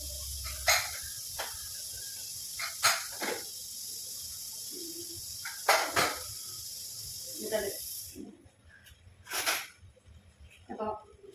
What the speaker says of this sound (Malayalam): നമുക്ക് കുക്കർ ഒന്ന് തുറന്നു നോക്കാം.